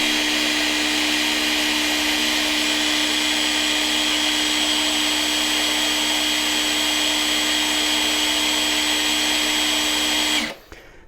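An Ingco 20V cordless chainsaw runs at full speed in a single loud, steady high-pitched whine for about ten seconds, then cuts off abruptly.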